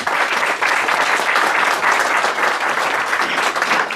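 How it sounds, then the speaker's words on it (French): Dense, sustained applause fills a room at a National Front political dinner, steady and loud from start to finish with no break. "Et ces applaudissements, ils s'adressent à vous"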